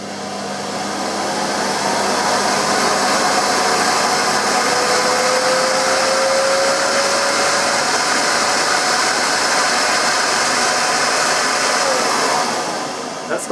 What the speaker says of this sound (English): That's got one of the slowest ramp ups I've ever experienced on a vacuum cleaner